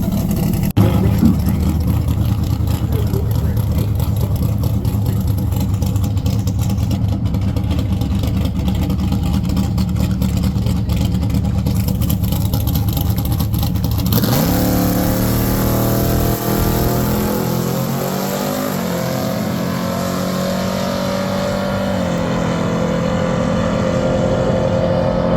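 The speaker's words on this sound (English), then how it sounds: "So they did their burnouts together and their first warm-up pass of the final day together." Two drag race cars at a raceweek drag-and-drive event do burnouts and a warm-up pass side by side, their engines roaring steadily and loudly. The note shifts as they launch down the track.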